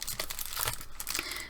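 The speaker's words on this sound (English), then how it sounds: "now I'm going to take one of my epoxy stickers" A self-adhesive epoxy sticker peeled from its backing sheet while crafting doll-face necklaces: close, soft crinkling and tearing crackle lasting a second or so.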